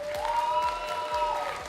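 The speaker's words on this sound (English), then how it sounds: "give a very, very, very big round of applause to all the parents in attendance today" Applause for the parents in the crowd at an esports event, the VRML CON 2024 VR grand final: brief, steady clapping from the audience with a faint tonal hum underneath.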